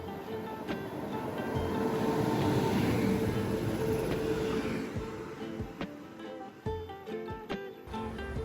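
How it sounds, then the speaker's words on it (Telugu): Steady rumble of a moving passenger train on a day trip near Thrissur, Kerala, heard from inside the carriage, with a continuous low roar and a few sharper rattles and clanks toward the end. "ఈ ట్రైన్ జర్నీ నాకైతే భలే అనిపిస్తుంది"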